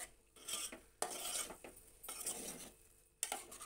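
Meal maker masala curry being stirred in a pan, a spoon scraping and clinking against the metal in short repeated strokes, close and fairly quiet.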